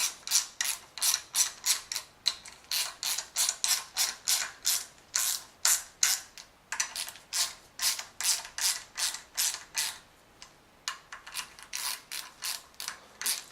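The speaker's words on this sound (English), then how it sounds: "Just going to draw these down a little bit at a time, compressing that spring washer" Ratchet wrench clicking in steady rapid bursts as bolts are drawn down a little at a time on a BMW M52 engine during an overhaul, compressing a spring washer; close, crisp repeated ratcheting strokes with a brief pause, no talking.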